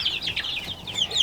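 Chickens clucking softly in a pen, a few overlapping high calls repeating irregularly at close range with no talk.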